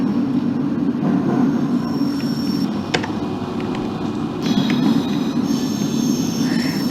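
A DLR train in the OpenBVE simulator rolling near Greenwich, a steady rumbling ride with faint wheel squeal, scattered rail clicks and a sharp clack midway, alone with no talk.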